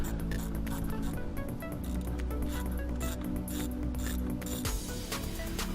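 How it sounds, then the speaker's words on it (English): A 1/4 inch drive ratchet with an 8mm socket and extension clicks in quick, steady bursts while loosening an intake bolt beside the throttle body of a 2011–2014 F-150 5.0L, close and fairly quiet. "Your 1/4 inch drive with an 8mm, maybe a 3-inch extension. So we'll loosen it by the throttle body."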